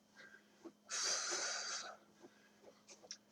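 A forceful exhale during a judo taiso warm-up exercise, a single long breathy rush of about one second, close and fairly loud, with faint breaths before and after.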